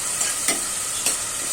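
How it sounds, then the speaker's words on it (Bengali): Prawns are stirred into a sizzling potato curry in a pan, a steady frying hiss with a few scraping strokes of the spoon. "এখন আমি চিংড়ি মাছটা দিয়ে দিলাম। সামান্য নাড়বো"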